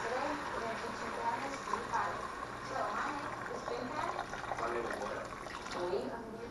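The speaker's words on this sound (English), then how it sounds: "I'm going to add some water to it" Water is poured into a slow cooker around a London broil pot roast, making a soft, continuous splashing and trickling that stays fairly faint and close.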